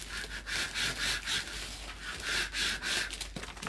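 A scraper rubs back and forth over a decal on a wood sign in steady, rhythmic strokes, close and fairly quiet.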